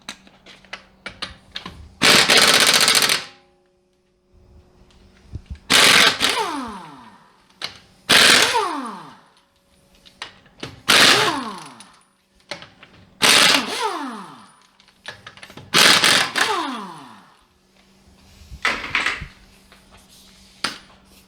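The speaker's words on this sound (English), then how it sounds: "you need a 21 millimeter lug nut socket to remove these" An impact wrench rattles lug nuts off a Tesla Model 3 wheel with a 21 mm socket, seven loud bursts about two seconds apart, each a second or so of harsh hammering followed by a falling whine, close up with no talk.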